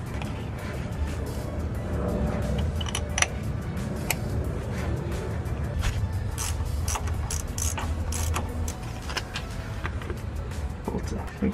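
A ratchet works an 8mm bolt out of a Ford Bronco differential carrier, giving steady mechanical clicking through the whole stretch over a low hum of shop background.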